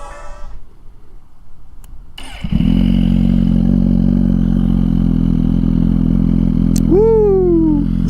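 A 2023 Suzuki GSX-R1000 with an M4 exhaust cranks and fires, settling into a loud, steady idle close by, then gives one quick rev near the end.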